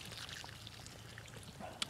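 Water poured onto a freshly transplanted garden flower bed makes a soft, steady splashing trickle, faint and continuous for a couple of seconds with a small splash near the end.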